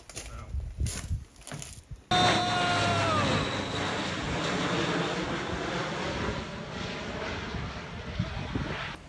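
A large airplane roars loudly overhead, its engine drone rising suddenly and sustaining steadily, with a whining tone sliding down as it passes.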